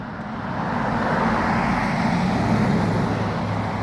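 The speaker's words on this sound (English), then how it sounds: "I realize there's a lot of cars driving by, so I'll speak a little louder so you can understand despite the traffic" Steady roadside traffic roars past as cars drive by during an outdoor walk, a loud continuous wash of engine and tire noise with no pauses.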